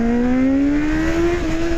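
A Kawasaki Z800 motorcycle engine pulls hard under acceleration, its steady whine climbing smoothly in pitch over about two seconds, loud and close with no talk over it.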